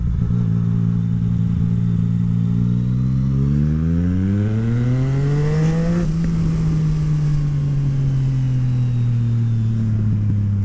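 A Yamaha MT-09 motorcycle with a full Akrapovic exhaust rides past, loud and close. Its engine note climbs steeply as it revs through the gears, then settles into a steady, deep drone with wind noise.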